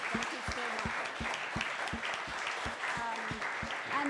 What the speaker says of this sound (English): Can we give them a big round of applause for it?